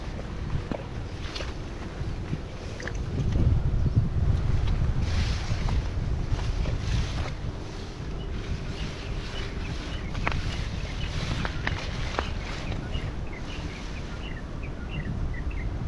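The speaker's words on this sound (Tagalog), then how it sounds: "Malakas yung hangin." Strong wind buffets the microphone out on open water from a boat, with steady roaring gusts and the wash of waves throughout, loud and continuous with no talking.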